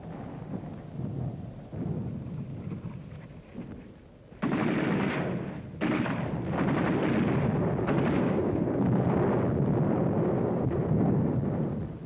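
World War II artillery fire in combat footage: a steady, rumbling roar of distant guns with a sharper, louder surge partway through, sustained and dense, no voices heard.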